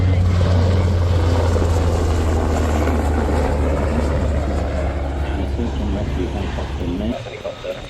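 A helicopter flying at the Avalon Australian International Airshow 2025, a loud steady rotor and engine drone with a low hum that fades near the end, while a voice talks over it.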